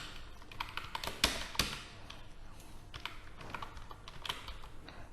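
Keys clatter on a computer keyboard while text is typed into Microsoft Word 2007, a quick irregular run of close, crisp taps with a couple of sharper strikes.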